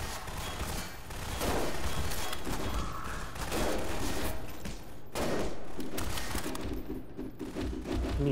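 Gunfire from the video game Garry's Mod comes in dense, rapid bursts of sharp repeated shots separated by brief pauses, loud and close.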